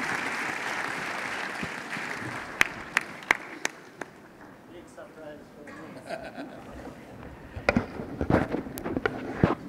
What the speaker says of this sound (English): Let's give the President a round of applause as he comes up.